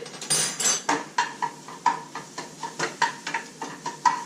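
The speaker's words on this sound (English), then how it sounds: "I'm going to go grab my plate, which is over here, side of my kitchen." A plate handled in a crowded home kitchen, giving a rapid series of about a dozen sharp ceramic and metal clinks and knocks, close and fairly loud with no talking.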